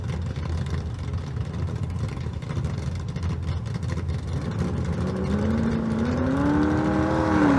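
A drag racing car's engine at a Las Vegas street car event, droning steadily and then climbing in pitch as it revs and accelerates toward the end, loud and alone.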